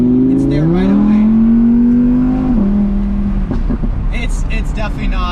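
A 2020 Audi R8 Decennium accelerating hard at full throttle on a highway, its engine note climbing loud and close in a rising whine, then shifting and pulling again, with a voice talking over it.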